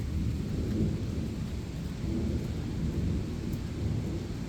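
Thunderstorm with steady rain: a dense, continuous wash of rainfall with a deep rumbling low end throughout, loud and close with no pauses.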